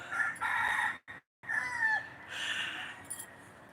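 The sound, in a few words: rooster crowing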